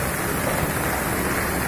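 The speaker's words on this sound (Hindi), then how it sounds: "यहाँ पे बारिश हो रही है" Heavy May rain pours steadily and loudly in India, a dense, even hiss close by with no pauses and no voices.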